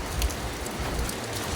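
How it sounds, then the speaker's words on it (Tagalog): Heavy rain falls in a dense, steady hiss of close drops with soft low rumbles underneath and no voices. "so lumakas na yung ulan"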